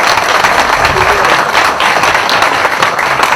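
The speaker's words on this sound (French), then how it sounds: "d'applaudir très fort" Dense, loud applause from a large audience, continuous clapping filling the whole stretch without a break.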